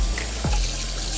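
Cold water runs from a tap in a kitchen to wet foil paper for covering a brown rice pot, a steady close rushing stream throughout the short moment.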